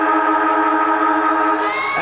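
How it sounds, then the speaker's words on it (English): A loud, steady siren at an Australian rules football match wails continuously with a rich harmonic tone, holding its pitch for the full two seconds. "And the siren goes."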